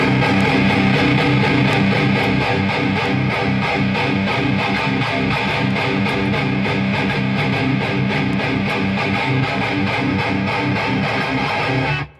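An electric guitar played through an Orange Rockerverb 100 MkIII tube amp, chugging in a steady rhythmic strum, loud and continuous for about twelve seconds before stopping abruptly.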